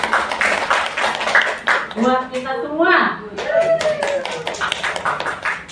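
An audience claps at a presentation on positive school culture, with steady, fairly close clapping mixed with talk and a few chuckles that rises and falls over several seconds.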